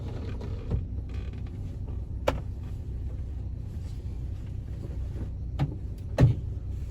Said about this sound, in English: I'm going to put this window up